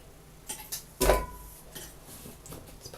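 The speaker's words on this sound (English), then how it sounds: "So you're going to add your potatoes to the onions and the garlic." Potatoes dropped into a slow cooker onto onions and garlic for a vegan potato and chickpea curry, heard as a few light knocks and one louder clattering thump, close and otherwise quiet.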